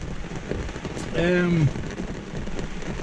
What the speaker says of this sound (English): Now we just had some light gusts and some rain showers